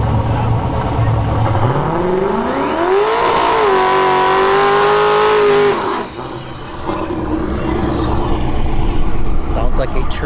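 A drag racing truck with a turbocharged LS engine accelerates hard at a dragstrip test-and-tune session, its loud engine note rising steeply in pitch then holding a high sustained whine before cutting off, with crowd and track noise behind.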